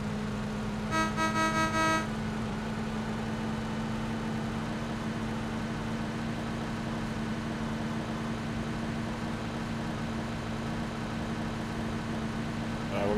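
Steady in-game vehicle engine drone while driving in PUBG, a constant low hum running throughout with a brief tonal horn-like burst near the start.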